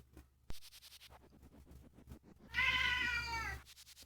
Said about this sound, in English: Meows at me and then I stand up and he just runs away